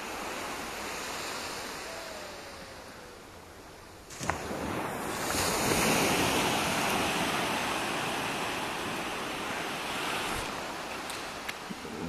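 Steady surf and wind on Tenby Beach in Britain, a continuous broad roar of breaking waves with a sudden lift in wind noise partway through, no voices.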